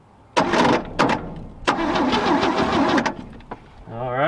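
A 1966 Chevrolet C10 pickup engine cranking off a jump pack, several loud close bursts of starter whirring separated by short pauses, with a brief voice at the end.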